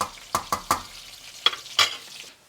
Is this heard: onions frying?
yes